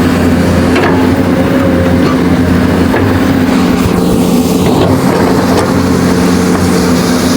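A heavy machine's diesel engine drones loud and steady while pulling soil at a new road construction project in Bekasi, with a constant low rumble and a mechanical whine throughout.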